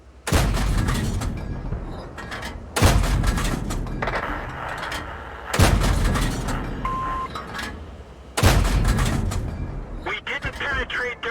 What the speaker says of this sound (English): See if we can get a shot or two on him.